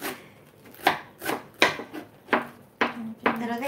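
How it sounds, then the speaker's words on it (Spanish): A knife chops fresh cilantro on a cutting board in a home kitchen, giving a series of sharp, irregular close-up strikes with a few scraping strokes in between. "Yo estoy picando el cilantro."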